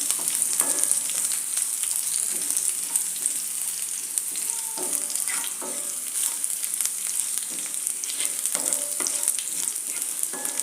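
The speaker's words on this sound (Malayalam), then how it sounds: "ഈ വെളുത്തുള്ളിൻ്റെയൊക്കെ ഒരു പച്ച മണം മാറുന്നവരെ ഒന്ന് വഴറ്റുക." Garlic sautés in a pan for potato masala, a close, continuous sizzle broken by irregular scrapes and clicks as a spoon stirs it around.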